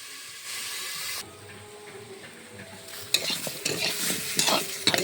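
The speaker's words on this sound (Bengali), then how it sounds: "আলু পটলটা সুন্দরভাবে ভাজা হয়ে গেছে" Potatoes and pointed gourd frying in a pan, first a steady covered sizzle, then a lid lifts and loud spatula stirring and scraping breaks through the bright crackling hiss.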